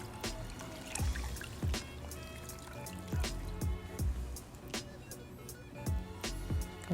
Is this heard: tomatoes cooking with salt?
no